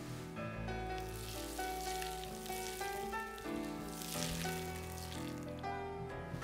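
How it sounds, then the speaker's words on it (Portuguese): Butter sizzles and browns in a pan for a corn dish, a steady frying crackle that runs throughout beneath prominent background music. "Podem levar a manteiga assim quase ao ponto de nós, ela ficar assim acastanhada."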